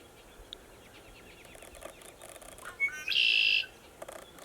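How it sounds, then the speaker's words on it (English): Red-winged blackbird calling from a tree outdoors, a soft series of chirps followed by one short, loud, buzzy call, heard alone against faint background ambience. "Little red-winged blackbird there in the tree."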